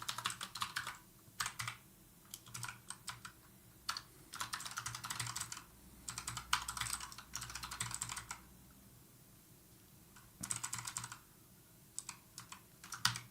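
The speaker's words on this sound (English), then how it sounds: "Keyboard, it's Razer Huntsman," Bursts of rapid clicky keystrokes on a Razer Huntsman computer keyboard, typed in short flurries separated by brief pauses, close and clear with no voices.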